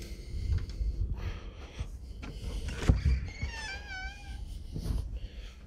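A cat meows indoors at the front entrance of a hobby farm house in Wainfleet, giving one clear drawn-out rising meow midway, amid close shuffling and handling noises.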